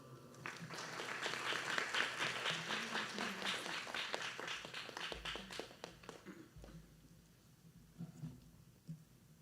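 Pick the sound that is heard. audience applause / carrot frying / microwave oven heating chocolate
audience applause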